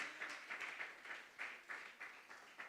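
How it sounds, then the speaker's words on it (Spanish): A church congregation at a Sunday service claps, a faint, somewhat distant patter of rhythmic applause with regular pulses, a few voices mixed in. "Gloria a Dios, dale un aplauso fuerte."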